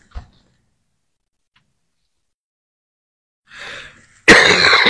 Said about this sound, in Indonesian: ini sambil terbatuk-batuk